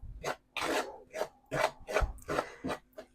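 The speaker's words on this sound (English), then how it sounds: "It's a whisk of a type, batter whisk or something." A batter whisk scrapes and rasps against a bowl while biscuit dough is mixed, in about eight separate rough strokes with brief pauses between them. It sounds close and fairly loud, and no one speaks.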